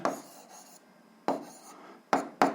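Pen or chalk scratching out a physics formula, a few short rasping strokes separated by brief pauses, close and fairly quiet, with no voice over them.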